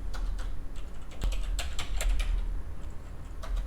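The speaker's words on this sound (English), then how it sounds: "I'm going to type in" Rapid clicks of fingers on a computer keyboard, close and fairly loud, arrive in quick uneven bursts over a low steady hum.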